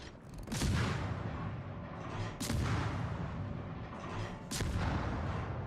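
Naval guns boom at a port in the World of Warships video game, three heavy, loud salvos spaced about two seconds apart, each followed by a rumbling tail.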